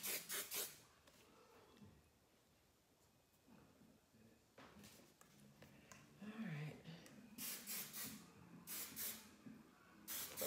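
Hairspray is sprayed onto fine hair styled in beach waves in several short, soft hissing bursts at irregular intervals. Quiet rustling fills the gaps between them.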